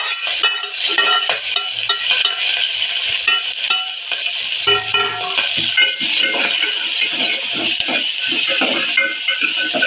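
Finely chopped onion and green chillies frying in a pan with black gram dal. A loud, continuous sizzle and crackle carries on throughout, with the spatula occasionally scraping against the metal.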